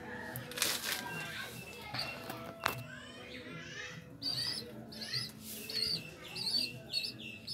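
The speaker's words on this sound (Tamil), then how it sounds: "இவங்க தான் செல்ல புறா." Pet pigeons giving soft chirps and short coos near a loft at feeding time, with a few sharp knocks early on and a person speaking in between.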